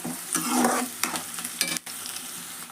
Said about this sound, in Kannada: ಇವು ಉಳ್ಳಾಗಡ್ಡಿ ಕರಿಯಾಕತ್ತಾವು